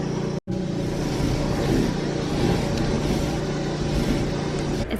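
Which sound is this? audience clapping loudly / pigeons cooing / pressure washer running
pressure washer running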